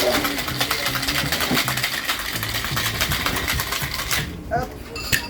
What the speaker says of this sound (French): On va mettre de la passion, un petit peu de citron, hop. On va le shaker.